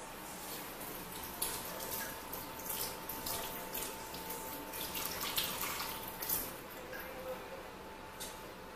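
Faint, steady running tap water with small splashes and drips as hands are washed beneath it, quiet and continuous with slight irregular bursts.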